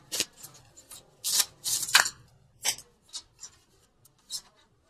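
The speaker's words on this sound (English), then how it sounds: "Okay, keep shuffling." Several crisp riffling bursts of cards being shuffled, close and fairly loud, separated by short pauses, with no talking.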